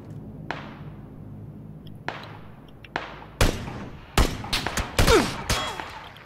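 Gunfire in PlayerUnknown's Battlegrounds: a few sharp, distant single shots spaced apart, then a louder, closer cluster of rapid cracks and thuds toward the end.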